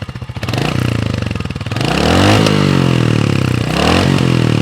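A Royal Enfield Hunter 350 motorcycle runs with a loud, close, thumping exhaust beat that climbs in pitch as the engine revs up, holds at higher revs, then eases back slightly.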